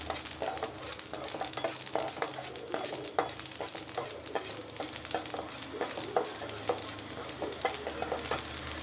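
Mustard seeds and fenugreek fry in oil for tomato chutney: a close, steady sizzle peppered with sharp popping crackles from the seeds, irregular and continuous, with no voices.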